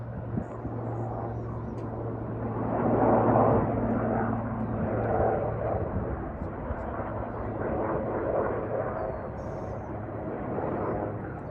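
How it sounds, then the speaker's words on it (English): Firefighting helicopter flying over a wildfire near Salt Lake City, a steady low rotor and engine drone that swells a little in the middle, heard at a distance under faint background talk. "trying to put it out with the helicopter"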